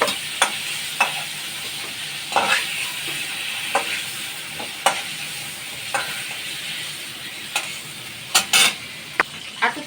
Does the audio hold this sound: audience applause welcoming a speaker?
no